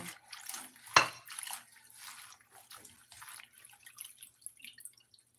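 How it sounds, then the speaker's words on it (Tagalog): Food being washed under running water, with soft trickling and splashing, one sharp clatter near the start, then faint intermittent drips and water noise close by. "Ngayon, para walang uod, hugasan natin maigi."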